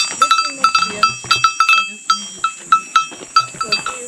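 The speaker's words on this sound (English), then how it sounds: "So I see you got a lot of white goats." White goats crossbred with Boer on a farm, bleating in frequent short calls close by, some overlapping, with people talking among them.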